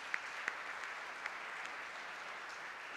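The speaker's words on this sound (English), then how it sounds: "Let me start with a round of applause for our panelists and our advisory board members." Faint, distant audience applause for panelists and advisory board members at a media prize keynote, a soft continuous wash of clapping with a few sharper claps standing out.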